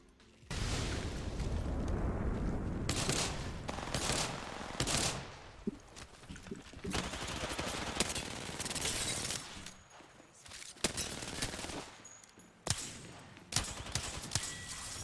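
Rapid gunfire in the video game Fortnite comes in loud, dense bursts separated by short pauses, with no talking.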